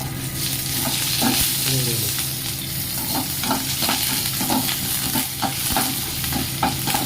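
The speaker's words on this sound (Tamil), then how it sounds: "பச்சை மிளகாய் போட்டிருக்கேன் கருவேப்பிலை போட்டிருக்கேன் இதில் வந்து ரெண்டே ரெண்டு காஞ்ச மிளகாய் கிள்ளி போட்டுக்கலாம்" Green chillies, curry leaves and dried red chillies tempering in hot oil sizzle loudly and continuously, with repeated stirring scrapes throughout and no talking.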